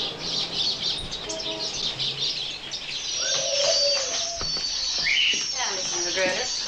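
Seagulls call in a scene from the film The Birds, with bird cries and chirps rising over background film sound and people talking, the calls growing busier toward the end.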